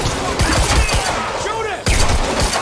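Rapid gunfire in the video game Quantum Break: loud bursts of automatic shots crack in quick succession over shouting combat voices.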